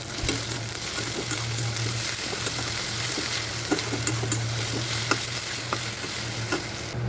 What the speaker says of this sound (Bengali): পেঁয়াজ আর রসুনটা ভালোভাবে ভাজা ভাজা হয়ে গেলে